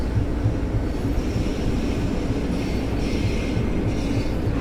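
An M9 Long Island Rail Road electric train in a railroad simulator game, running at track speed with a steady loud rumble of wheels on rails and faint rhythmic clicking, no voices.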